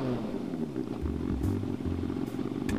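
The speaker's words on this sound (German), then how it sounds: "Ein Motor." An engine starting up in the video game Edna Bricht Aus, a low rumbling motor that settles into a steady purring drone for a few seconds, with no talking.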